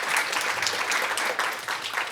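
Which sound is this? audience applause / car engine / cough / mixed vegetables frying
audience applause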